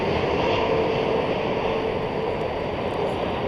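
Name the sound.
Cargolux cargo plane arriving at DFW airport at night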